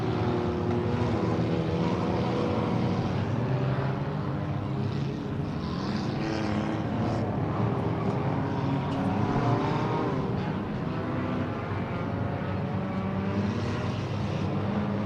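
Race cars bunching up through a chicane during the Halloween 200 race, a continuous loud engine drone from several cars blending into a steady roar with no clear gaps.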